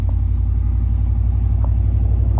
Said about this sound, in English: Man, this truck sounds good.